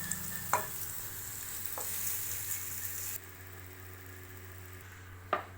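Cubes of paneer fry in a pan of oil with a steady sizzle and a few sharp clinks from a spoon or spatula, close by. The sizzle drops off partway through, leaving a quieter hiss.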